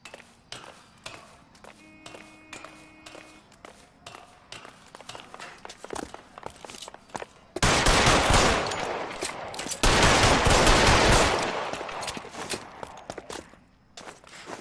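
Rapid automatic gunfire in a video game, preceded by soft scattered footstep-like clicks, then two loud sustained bursts of shooting, the second tailing off gradually.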